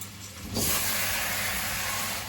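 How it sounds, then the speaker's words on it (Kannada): Broccoli frying in a pan at home, a loud steady hiss of oil and steam that jumps up sharply about half a second in and holds constant to the end, with no talking. "ಸೊ ಬ್ರೋಕೊಲಿ ಹಾಕೊಂಡೆ ಪ್ಯಾನ್ ಒಳಗಡೆ ಆ್ಯಂಡ್ ಇದನ್ನು ಹಾಗೆ ಫ್ರೈ ಮಾಡ್ತಾ ಇದ್ದೀನಿ"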